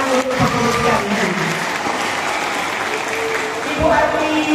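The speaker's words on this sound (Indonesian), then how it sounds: "Oleh tepuk tangan untuk pengurus kantin" Applause for the canteen staff at a school opening ceremony in Aceh Besar, a crowd clapping steadily throughout, mixed with a voice speaking over a hall microphone at the start and end.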